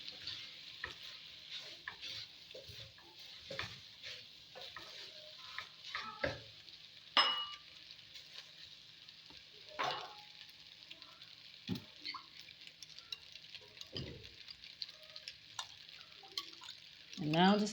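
Pasta being tossed with vegetables in a stir fry pan for a teriyaki prawn dish, quiet sizzling underneath irregular scrapes and clinks of the utensil, with a few sharper knocks against the pan.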